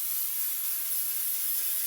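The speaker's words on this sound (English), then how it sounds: "I'm going to spray it with Baker's Joy." Baker's Joy baking spray hissing steadily from an aerosol can into loaf pans for a butter pecan pound cake, one continuous close spray lasting about two seconds.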